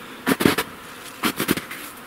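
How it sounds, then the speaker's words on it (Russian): Honeybees buzzing around hives in early spring during an early cleansing flight, with short swells of close buzzing as insects pass near, quiet gaps between passes. "Все пчелосемьи живы."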